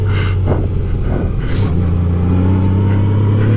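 A 2018 Honda Gold Wing Tour motorcycle with modified stock mufflers and a BT Moto Stage 1 tune revs loudly up close, its deep engine rumble swelling and settling in steady throttle blips with no talking.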